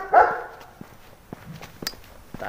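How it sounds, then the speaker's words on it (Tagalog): A big dog lets out one loud, deep bark nearby, followed by quieter scattered sounds like footsteps and small knocks. "Ang laki ng aso rito."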